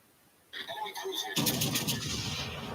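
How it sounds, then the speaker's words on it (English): Heavy naval guns of the USS Iowa battleship boom in a video game, a sharp blast arriving after a quiet start, then a second, louder and denser barrage rolling on with a sustained rumble to the end. "First gunshot of the USS Iowa so far on my stream."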